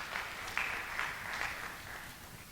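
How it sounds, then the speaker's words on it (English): A panel audience claps for the speakers, a soft, diffuse patter of many hands heard from a distance, with a few slightly stronger bursts before it thins out. "Can we please give them a round of applause?"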